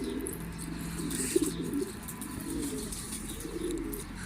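Pigeons in a loft coo in low, rolling phrases, several calls overlapping against a steady background hiss, with faint chirps mixed in.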